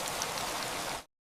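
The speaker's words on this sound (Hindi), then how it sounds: "उसी रात आसमान में बादल घिर आए, तेज हवा चली, बिजली कड़की और माधव को नहीं पता था कि यही बारिश उसकी जिंदगी की दिशा बदलने वाली है।" Steady rain pouring down at night, a dense, even hiss of drops that fills the space for about a second and then cuts off abruptly into silence.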